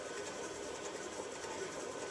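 An electric mixer creams sugar for bran muffins, giving a steady, unbroken motor whir with a faint rhythmic rattle, close and alone throughout.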